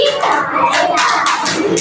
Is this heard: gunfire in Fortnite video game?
no